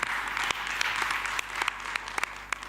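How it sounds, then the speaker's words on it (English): Steady audience applause at a forest heritage conference fills the clip, dense clapping from a crowd with sharper individual claps standing out near the end, no voices. "A round of applause for Madam Nora"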